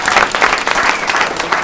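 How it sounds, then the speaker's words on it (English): A small audience claps at the close of a science demonstration on testing for lead, brief dense applause, fairly loud and steady. "I'm going to give you a round of applause"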